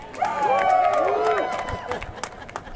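Members of the CSEA union cheer inside the updated Buffalo Convention Center, a brief burst of voices and whoops with scattered claps that swells loud and then tapers into thinner crowd noise.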